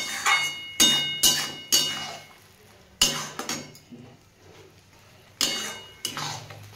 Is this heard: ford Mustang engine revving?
no